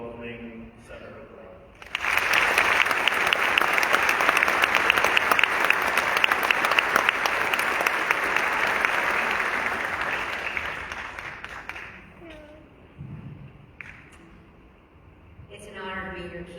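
A conference keynote audience applauds Senator Brown, with steady, loud clapping from a large crowd lasting about ten seconds before fading out as a voice begins to speak.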